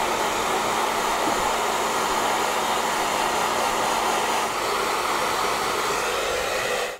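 Hair dryer on low or medium heat blowing air steadily at an iPad, a continuous close whoosh with a faint motor hum and no breaks.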